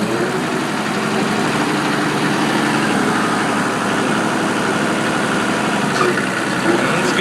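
A Kubota M4050 two-wheel-drive full-size tractor's diesel engine runs at a steady, loud, close drone with constant low rumble and vibration, holding an even level throughout.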